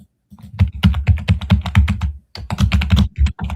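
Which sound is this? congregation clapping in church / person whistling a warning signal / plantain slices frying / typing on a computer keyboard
typing on a computer keyboard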